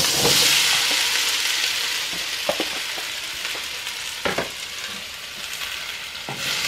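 Potatoes frying in hot oil for a potato and panela cheese soup, a steady broadband sizzle throughout with a few sharp pops and clicks of stirring, no talking.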